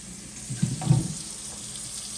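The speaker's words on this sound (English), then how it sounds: "let me go ahead and wash out my skillets again" A kitchen tap runs briefly while skillets are washed out at the sink: a short, close splash of water rises and fades within about a second against quiet room tone.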